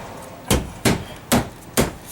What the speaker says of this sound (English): these retaining pins are going to snap right into the vehicle chassis there